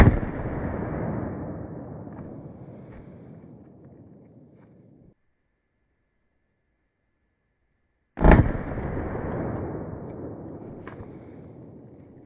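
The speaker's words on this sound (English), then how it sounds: "let's shoot for that 25 yards and see what we get with these rounds." Two loud, close handgun shots, .44 Magnum and 10mm Buffalo Bore lead-free rounds fired at 25 yards, each a sharp blast with a long echoing decay, separated by a few seconds of silence.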